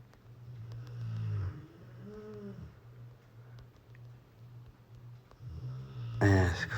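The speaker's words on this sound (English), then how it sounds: "forget my dog snoring" A dog snores in slow, rhythmic breaths, low and steady throughout, with a louder, brighter burst near the end.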